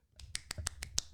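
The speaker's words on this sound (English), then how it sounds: "You clap one-handed." A one-handed clap, fingers smacking against the palm, repeated six times in a quick even rhythm, sharp close snaps with nothing else around them.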